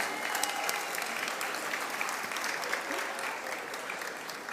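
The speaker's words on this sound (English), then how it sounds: "Let's give them all one big round of applause once more." An audience at a leadership awards celebration claps for the award recipients, a dense, sustained round of applause filling the room, steady and fairly close throughout.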